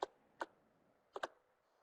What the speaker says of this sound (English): As Hillary's typing...